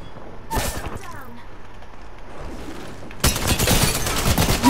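Bursts of video game gunfire in a fast shooter match, one sharp volley early then a dense, loud barrage of rapid shots near the end, with a player's voice talking between them.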